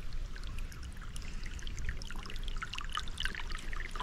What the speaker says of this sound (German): Aber jetzt erstmal das Rauschen des Wassers genießen.